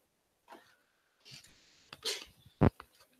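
A single sharp sneeze bursts out near the end, preceded by a few soft breaths and rustles in an otherwise quiet room.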